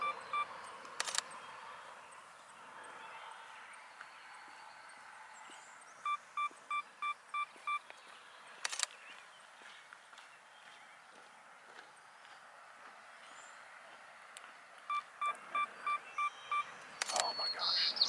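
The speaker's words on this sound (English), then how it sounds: "2-second timer." A camera's two-second self-timer beeps during a landscape photography shoot among tulips: two quick bursts of rapid, faint electronic beeps, each followed by a soft shutter click, with quiet outdoor ambience between them.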